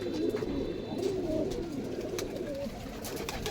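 Giribaz pigeons at a sale loft coo in low, soft, repeated murmurs, several birds close by over a quiet background with faint occasional clicks.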